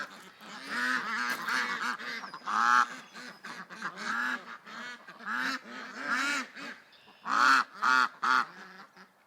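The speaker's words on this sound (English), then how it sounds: "I don't believe these Canada geese." Canada geese honk repeatedly and close by, a series of loud, harsh calls in irregular bursts with short pauses between.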